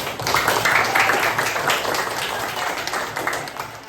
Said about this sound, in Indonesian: Tepuk tangan dulu buat Santi.